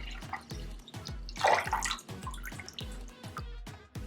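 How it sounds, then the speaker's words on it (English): About ten ounces of 100% orange juice poured into a larger measuring cup, giving a steady run of regular glugging pulses with a fuller, splashier stretch in the middle, close and moderately loud. "I'm gonna pour that into a bigger measuring cup"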